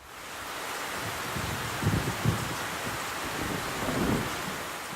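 Rain falling steadily at a construction job site, a dense even hiss with a few low rumbles of thunder rolling through the middle and near the end.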